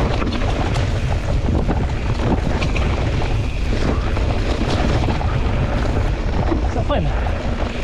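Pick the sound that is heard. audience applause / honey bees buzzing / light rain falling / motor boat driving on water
motor boat driving on water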